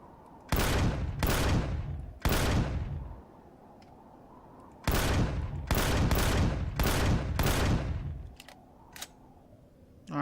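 Turrets in Empyrion: Galactic Survival fire in loud, sustained bursts of rapid gunfire, several volleys separated by short pauses, ending in a few sharp isolated shots.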